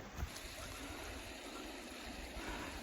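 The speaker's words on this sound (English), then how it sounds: "fresh running water" A fresh running stream at a secluded wild camp spot near a waterfall in Dentdale gives a steady, soft rushing wash of water, fairly faint and continuous with no voices.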